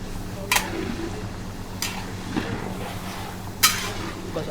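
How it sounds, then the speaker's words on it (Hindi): A spoon stirs onions in a cooking pot for Kabuli pulao, giving a few sparse, light clinks and scrapes against the pot over a low steady cooking hum. "बस अपने वक्फे से चम्मच हिलाते रहना है ताकि जो प्याज है वो इसमें मिक्स हो जाए अच्छी तरीके से"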